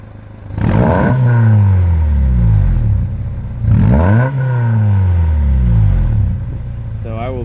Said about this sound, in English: that's what it sounds like at idle. And then we'll put a rev to it.